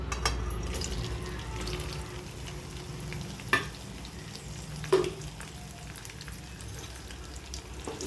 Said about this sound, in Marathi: आपलं तेल गरम झालेलं आहे। आता त्यामध्ये आपण भेंडी टाकून घेऊ।